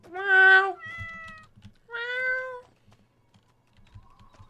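A cat gives two clear meows, the first longer and louder, a second one a beat later, with soft keyboard typing clicks underneath and a faint third call near the end.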